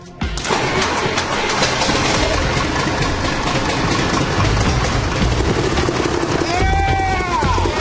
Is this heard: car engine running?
yes